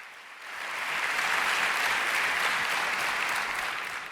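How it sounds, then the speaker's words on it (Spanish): A concert audience applauds a singer, a broad wash of clapping swelling in from a quieter start, holding steady and easing off slightly at the end, heard at a distance through a recording. "mira que la gente cómo la aplaude."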